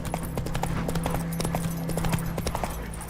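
Rhythmic hoofbeats of Roach, the horse in The Witcher 3, clip-clopping at a steady trot over ground, close and clear with a low hum underneath throughout.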